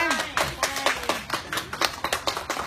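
Hands clap in a steady repeated rhythm, close and fairly loud, with a voice talking over the claps in a lecture setting.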